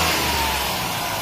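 A 3.3-litre V6 in a 2004 Dodge Caravan wheelchair-accessible van with 61,000 miles idling steadily, a smooth, even low hum held at constant level throughout with no voices.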